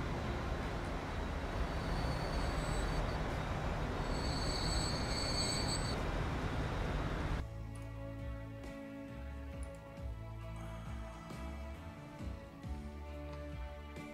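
Rail traffic in the Transport Fever game, with a steel freight train on a platform track in a US freeplay map set in the 2010s: steady loud rolling and wheel squeal that cuts to a quieter, clattering rail sound partway through.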